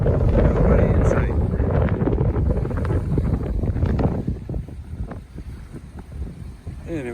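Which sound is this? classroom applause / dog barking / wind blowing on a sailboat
wind blowing on a sailboat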